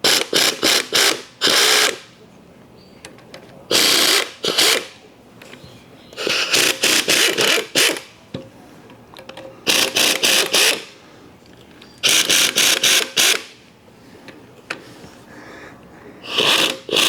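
A ratchet socket wrench slowly easing off goo-soaked 9/16 bolts on the Dana 30 front axle brake adapter of a 1976 Jeep CJ-5, heard as loud, close bursts of rapid clicking separated by short pauses.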